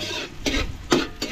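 Garlic and ginger frying in a pan while being stirred for pork offal batchoy, a steady close sizzle broken by two or three louder scraping stirs, with no talk.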